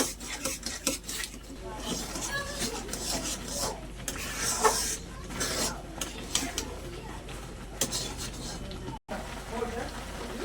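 Raw mango pulp with sugar is stirred in a pan, a steady close rasping and scraping of the spoon against the metal with faint clinks, under quiet talk.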